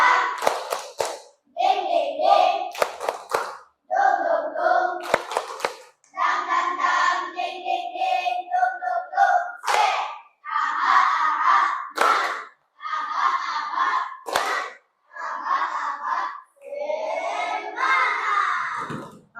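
Children chant in unison with short bursts of rhythmic clapping between phrases, a lively group sound with pauses separating each line.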